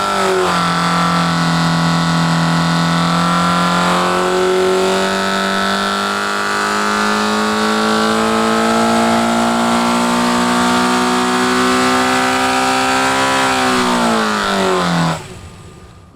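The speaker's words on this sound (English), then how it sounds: "If you listen to it, I just control where I want the revs to be" Racing Mini Cooper engine held at steady high revs by throttle control, a loud, close, sustained drone that climbs slightly in pitch and then drops sharply as the revs fall away at the end, with no talking.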